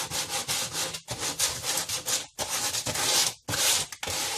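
Dollar-store sandpaper rubbing back and forth over wood in steady, loud strokes, with brief pauses between bursts as the surface is roughed up for a weathered look.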